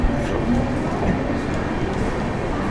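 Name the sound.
railway station ambience with train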